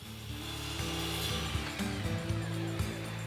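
Steady motor hum of a power saw cutting a cedar 1x6 board for a wooden planter box, close and continuous with slight shifts in pitch as the blade works, and no talking.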